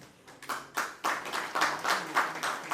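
A live theatre audience at a staging of the Hindi play Charandas Chor breaks into hearty applause, the claps swelling into loud, steady rhythmic bursts close by.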